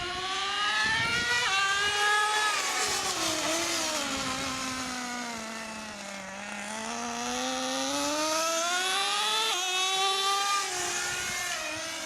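A nitro-powered Traxxas T-Maxx RC truck engine runs at half throttle, its high buzzing whine rising and falling as it shifts gears, loud and close with a brief dip in pitch midway before climbing again.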